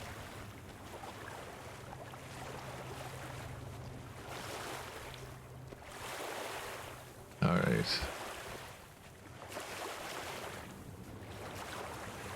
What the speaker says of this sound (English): Why is the water sound?